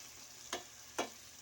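Potatoes for potato bhaji frying in plenty of hot oil, a steady soft sizzle broken by two brief louder bursts of stirring about half a second apart.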